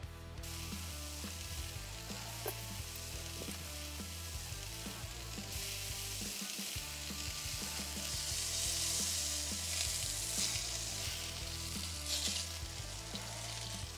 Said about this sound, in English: Now I'm just gonna take the lid off and brush each rib with a little melted butter.